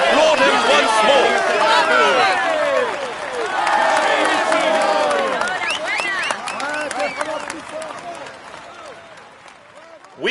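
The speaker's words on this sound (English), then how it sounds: "Come on, let's applaud him once more." A large crowd applauds and cheers loudly at a Tour de France mountain stage, with whistles and shouts over steady clapping that gradually thins toward the end.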